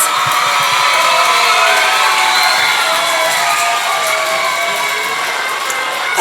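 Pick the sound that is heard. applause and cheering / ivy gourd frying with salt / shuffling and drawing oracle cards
applause and cheering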